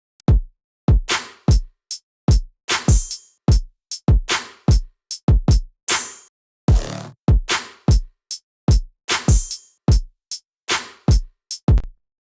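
A soloed drum track from an electronic drop, with punchy kicks, snares and crashes hitting in a driving, syncopated pattern, close and loud, with a short noisy swell midway.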